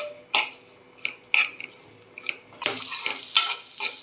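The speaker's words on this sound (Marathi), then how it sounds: "हे जे उरलेलं तूप आहे त्याच्यामध्ये मी आता कांदा भाजून घेते।" Onion being stirred in leftover ghee in a pan, with sharp intermittent scrapes and clinks of a utensil against metal over a faint sizzle, close and irregular.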